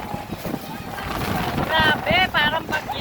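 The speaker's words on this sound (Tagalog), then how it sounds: "Napakalakas ng hangin." Gusty wind roars and buffets the microphone on a boat travelling to Nasugbu, Batangas, with water and boat noise underneath and a voice calling out briefly near the end.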